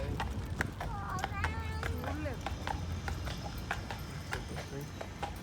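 Steady clip-clop of a horse's hooves pulling a carriage on an Old Quebec city tour, close and rhythmic, with people talking over it throughout.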